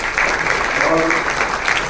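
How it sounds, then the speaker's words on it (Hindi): Audience at a Hindi-speaking gathering clapping for everyone, a dense steady round of applause close by with voices mixed in throughout. "बात सबके लिए तालियां जरूर बजा दीजिए"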